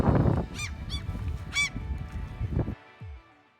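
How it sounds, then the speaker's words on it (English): Ducks calling among Norwegian birds: a few loud, honking calls come in separate bursts over a steady rushing background, close and clear. "And this is a duck."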